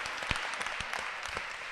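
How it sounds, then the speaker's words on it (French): Scattered applause from a conference round-table audience, a loose patter of hand claps at moderate, fairly steady level with no standout bursts, heard alone for a brief moment. "on peut applaudir"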